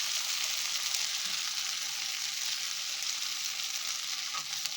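Ground corn fries in a hot pan for a vegetable corn soup, giving a constant, even sizzle that holds steady throughout with no voices over it.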